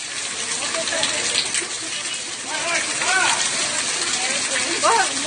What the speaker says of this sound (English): The incessant downpour, accompanied by gusty winds and thunderstorms, led to flooding in the region.